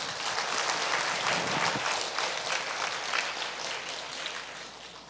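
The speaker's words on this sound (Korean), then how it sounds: "우리 그러한 하느님께 감사의 큰 박수 올려드립니다." Applause from a congregation at a Catholic retreat fills the space with a sustained, dense patter of many hands, fairly distant and steady before slowly tapering off.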